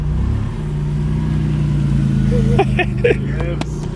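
A car with a vacuum leak idles with a steady low engine drone, then the throttle is blipped and the revs rise briefly before settling, while people talk nearby in short bursts.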